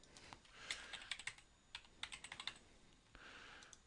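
Rapid, fairly faint keystrokes tap out on a computer keyboard in an uneven run of clicks, close by, then trail off into quiet room tone with no talking.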